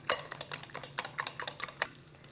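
Spinach and dried dill being mixed in a bowl, heard as a quick run of light clinks and scrapes from a utensil that slows and fades toward the end.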